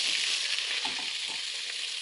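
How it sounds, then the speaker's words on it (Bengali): Potatoes fry in hot oil that was just used to fry fish. A steady, bright sizzle runs throughout, with soft bubbling pops and no voices. "আলুগুলো লাল করে ভাজবো"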